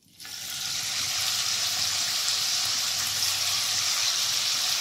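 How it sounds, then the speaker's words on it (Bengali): Chicken mince tipped into hot oil left over from frying eggs sizzles in a pan, a steady close hiss that jumps up at once and holds evenly with no talking. "এরপর চিকেনের কিমাটাকে হালকা করে ভেজে নেব"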